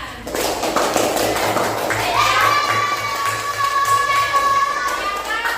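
Fourth-grade classroom children clapping together in applause after a group presentation, a dense burst under children's shouts and chatter, with a high whistle-like tone sliding in midway.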